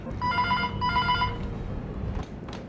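Telephone ringing in two short electronic trills, close and clear, followed by quiet room noise.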